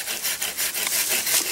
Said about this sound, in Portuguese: Se você serrar da posição onde eu tô aqui, ó, você vai serrar melhor daqui pra lá